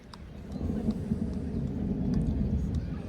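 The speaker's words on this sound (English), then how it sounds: "Thunder rumbling now with rain continuing to just trickle across Cecil Park here." Low continuous thunder rumbles through light trickling rain at an outdoor baseball game at Cecil Park, a steady broad roar that holds loud for the whole stretch with no voices over it.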